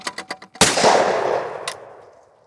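A shotgun fires one loud, close blast at a clay target outdoors, with a booming report that rolls away over about two seconds, preceded by several sharp clicks.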